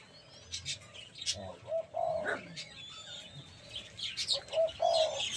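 Young hand-fed pigeons coo and chirp close by in short overlapping calls, with occasional wing flutters and soft rustling.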